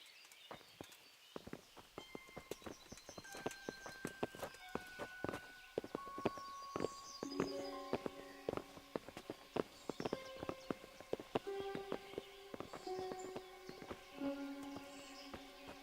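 Horses' hooves clip-clop at a walking pace in the medieval game Kingdom Come: Deliverance, a steady train of sharp knocks running throughout, with game music tones laid over the hoofbeats.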